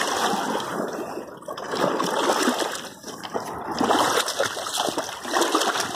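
Agitated, choppy river water rushes and splashes steadily at the bank, a continuous loud wash with no voices.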